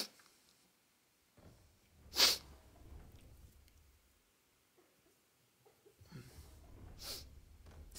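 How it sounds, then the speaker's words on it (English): A sharp, loud sneeze bursts out once near the start, followed by softer breathy snorts and sniffs, with no talking over it. "Sneezing."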